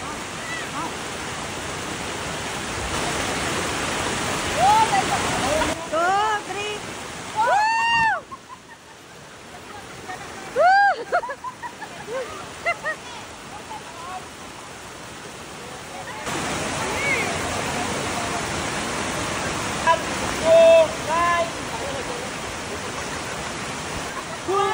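A river flows steadily throughout, a broad rushing wash of water that stays loud and close. Short calls and voices rise briefly above it in the middle.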